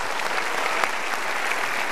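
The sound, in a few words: studio audience applause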